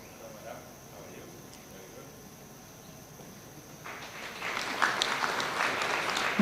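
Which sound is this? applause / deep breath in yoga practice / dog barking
applause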